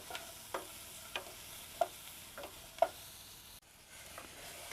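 Raspberries, onions and garlic cook down in a pan with a soft, steady simmer. Occasional sharp spoon taps and scrapes stand out against the low background.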